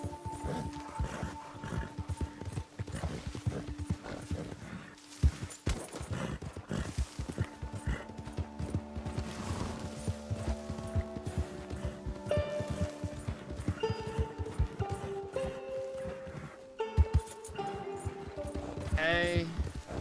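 Horse hooves clip-clop in Red Dead Redemption 2 alongside a whinny and other game sound effects, moderately loud and busy.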